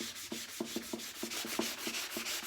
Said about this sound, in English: I'm just gonna take a little bit of sandpaper so it looks like it's part of the wood